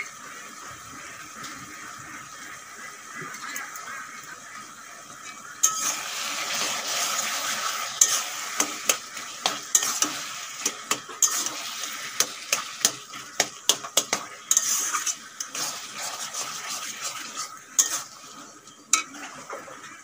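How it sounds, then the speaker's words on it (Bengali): Taro leaves with shrimp fry in a pan. A faint simmer gives way to a busy run of sharp spatula scrapes and clinks against the pan over a low sizzle, close by, with no speech. "আর একটুক্ষণ ভাজবো, তারপরে নামিয়ে নেব।"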